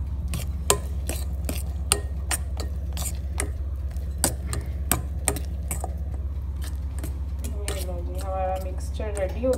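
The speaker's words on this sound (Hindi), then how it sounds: "अब डाल के तो मैं इसको एक दफ़ा फिर से मिक्स करूँगी" Banana bread batter with chocolate chips is mixed in a bowl, producing a steady series of sharp utensil clicks and scrapes, with someone talking briefly toward the end.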